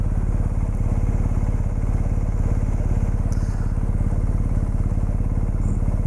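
A BMW 1250 GS motorcycle engine runs nearby at a steady idle, giving a constant low, even pulsing thrum with faint mechanical clatter on top and no speech.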